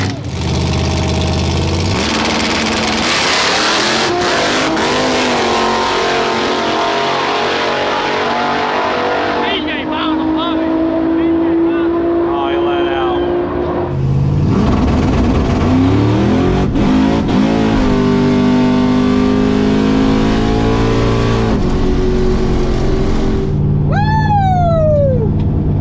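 A drag racing car revs hard through a high-speed pass of over 213 mph, the engine note loud and close, rising and falling in pitch through the run, with people talking over the roar.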